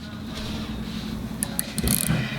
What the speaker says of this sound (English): We are torquing the Zerk bolts to 5 foot-pounds